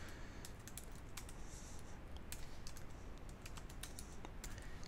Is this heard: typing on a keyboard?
yes